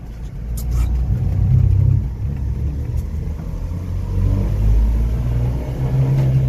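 A blue Honda Acty with a five-speed gearbox drives along with its small engine droning steadily up close, the revs dipping and then climbing again after a gear change.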